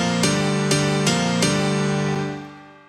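M1 piano with Camel Crusher saturation, EQ and OTT compression playing four bright, evenly spaced chord stabs that ring together, then fade out smoothly near the end, with no talk.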